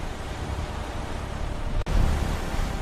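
Sea waves driven by a strong east wind: a continuous, roaring wash of surf and wind noise that briefly cuts out, then swells back louder, with no voices.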